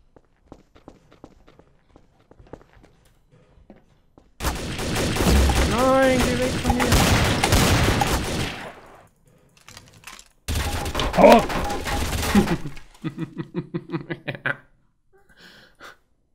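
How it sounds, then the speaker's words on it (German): Gunfire in Trouble in Terrorist Town, with two dense loud bursts of shooting separated by a gap, then a quick rapid volley of shots; faint clicks and footsteps sit in the quieter stretches. "Wie schießt die ganze Zeit irgendjemand?"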